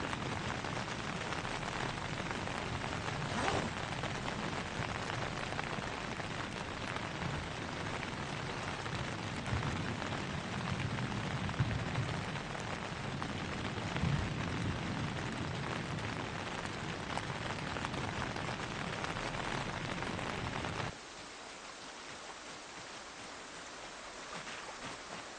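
Steady rain falls in the zombie survival game Project Zomboid, a dense hiss of drops pattering on surfaces that runs unbroken for about twenty seconds, then drops abruptly to a quieter, thinner patter near the end.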